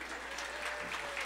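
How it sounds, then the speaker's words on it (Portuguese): A comedy show audience applauding, a brief burst of dense, continuous clapping from many hands with no speech over it. "palmas, senhoras e senhores"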